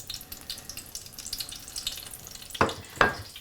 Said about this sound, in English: And you throw it in the oil.